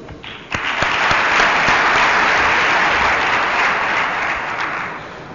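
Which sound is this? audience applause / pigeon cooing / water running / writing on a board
audience applause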